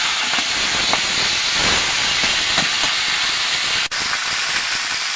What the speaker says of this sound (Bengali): এবার এই পুঁই শাকটা দিয়ে দেবো।